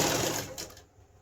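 A sewing machine stitches gathers into a dress lining in a brief close whirring run that fades out after most of a second.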